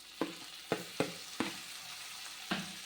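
Chopped tomatoes with turmeric powder sauté in a hot pan for an apple curry gravy, a steady close sizzle broken by five or so sharp knocks of a spoon against the pan, with no voices.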